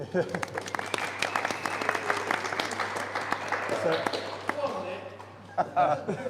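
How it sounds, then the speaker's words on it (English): Audience applause at a live beer tasting event, a scattered round of clapping from a modest crowd, fairly quiet and heard under ongoing talk and murmuring. "Round of applause for Josh."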